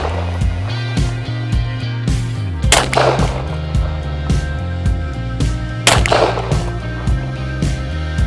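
Sig Sauer P320 Nitron 9mm pistol fired at a range, sharp loud reports spaced a few seconds apart, at least two prominent shots standing out over steady background noise.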